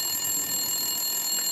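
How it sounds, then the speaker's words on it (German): A telephone rings with a steady, high electronic trill that holds at a fairly loud, constant level, alone with no talk. "das Telefon läutet."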